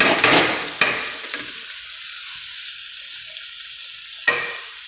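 Potato pieces frying in a pan, a loud burst of sizzle as they hit the hot oil, settling into a steady quieter hiss with a couple of sharp clinks of a spoon, no voices.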